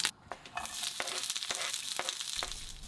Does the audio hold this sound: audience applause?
no